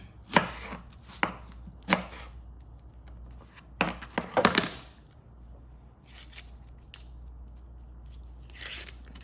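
A knife chops white onion into chunky pieces on a board: several sharp, close chops, a few spaced and then a quick cluster, separated by quiet gaps with faint shuffling.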